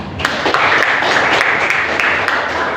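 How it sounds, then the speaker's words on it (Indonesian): A class gives a round of applause, a steady wash of clapping from a group in a room, fairly loud and continuous with a few sharper individual claps. "berikan tepuk tangan"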